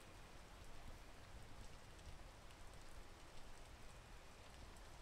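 Rain falling in a biome of the video game Peak, a steady soft hiss of drops on surfaces, faint and continuous with no voices.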